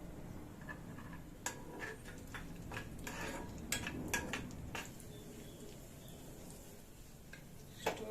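Pistachios, cashews and raisins fry in a pan for rice kheer, giving a steady soft sizzle. Light ticks and metallic clinks of a spoon against the pan are scattered throughout, with no talking.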